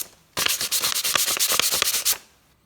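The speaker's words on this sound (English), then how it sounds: "I'm not going to sand the wood filler right now, I'm just sanding the edge." Rapid back-and-forth sanding by hand, a burst of about a dozen rhythmic rasping strokes, loud and close, then stopping.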